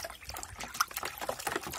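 Liquid sticker solution for a sprayer poured out in a steady, close splashing trickle with small gurgles, quiet and continuous.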